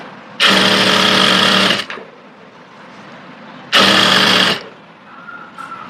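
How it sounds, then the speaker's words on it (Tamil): A sewing machine stitches a grocery bag handle folded three times, running in two loud, steady bursts of about a second and a half each with quiet pauses between. "ஃபர்ஸ்ட் நம்ம இந்த ஹேண்டில் ஸ்டிச் பண்ணிக்க போகிறோம்."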